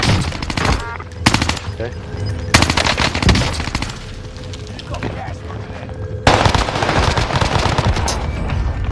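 Bursts of automatic fire from a Cold War gun in Warzone, loud rapid volleys repeating in several strings with short gaps between them, while someone speaks briefly over the shooting.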